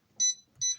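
Two short, high electronic beeps from a kitchen timer being set, evenly spaced and close, with near silence between them.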